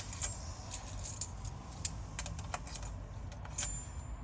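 Small metal Kwikset lock keys jangle and clink close by in quick, bright bursts, with a few louder chinks amid a low background rumble.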